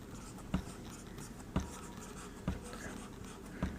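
Chalk or marker strokes on a board during a lesson on the Indian Constitution, four distinct taps spaced about a second apart, quiet and close, with no speech over them.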